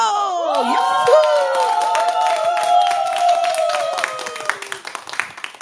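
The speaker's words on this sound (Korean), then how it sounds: "박수 주세요." An audience at a seniors' singing class applauds to welcome a singer, clapping running throughout under loud sustained music and voices, with scattered claps standing out more clearly as it trails off.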